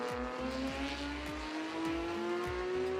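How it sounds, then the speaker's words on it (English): A race car enters the pits, its engine revving in repeated, rising bursts. Each surge drops off as the driver shifts down. The engine sounds close and steady throughout, with no voices. "entra ya a boxes el coche de Alba Vázquez"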